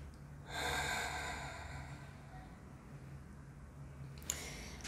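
Slow, deep diaphragmatic breathing: one long, airy inhale or exhale swells up clearly, then fades into quiet room tone, with a brief sharp breath near the end; no talking.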